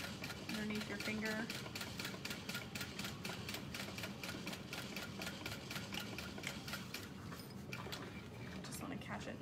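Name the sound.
sewing machine stitching along piping of a satchel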